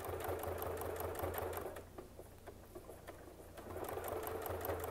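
A sewing machine doing free-motion quilting runs in a fast, even needle clatter, pauses briefly to a quieter ticking in the middle, then picks up again, close and steady with no voices.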